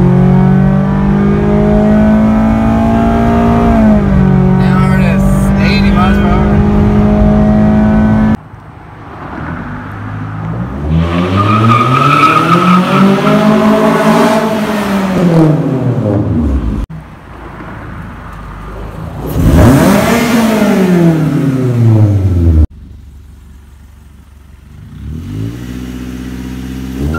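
A tuned second-generation Scion tC engine revs hard several times, its pitch climbing and falling in long sweeping bursts, loud and close with short gaps between runs.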